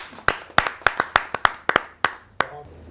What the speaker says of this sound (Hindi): आपके जोरदार तालियां मिले श्री आदेश त्यागी जी